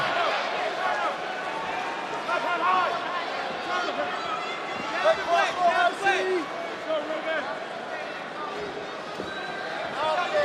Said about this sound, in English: The chants for Calvin Kattar from the crowd.